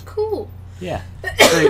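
A single sharp sneeze bursts out at the end of a short exchange, loud and close, following brief casual talk between players during a Half-Life 2 gaming session.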